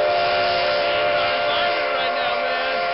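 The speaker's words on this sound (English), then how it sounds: "Man, it's that freaking train, man!" A train whistle blows in one long, steady, loud tone that holds through the whole stretch, with a slight waver in pitch and a rumbling undertone beneath.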